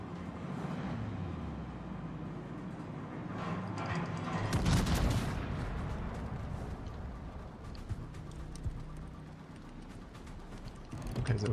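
Naval gunfire sounds from warships in the video game World of Warships, with heavy booming shots and rumbling explosions. A loud blast lands near the middle over a continuous low roar of engines and distant firing.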